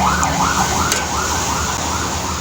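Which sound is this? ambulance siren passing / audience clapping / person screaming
ambulance siren passing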